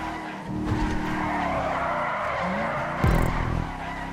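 Tyres skid and squeal as a Pegassi Toros sports car oversteers and loses traction in Grand Theft Auto 5, a steady loud engine roar underneath with a sharper burst of tyre noise near the end.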